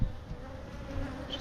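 A swarm of African honey bees buzzes close by during a roof swarm removal, a steady dense drone of many wings with individual bees passing near, continuous and fairly soft throughout.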